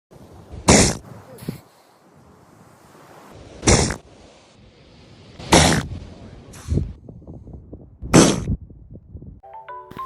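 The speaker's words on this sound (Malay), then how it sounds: "korang pernah tengok anjing laut bersin?" A seal sneezes in four or five sharp, loud bursts spaced a couple of seconds apart, with softer snorts and breathy rustling between them and a brief electronic tone at the end.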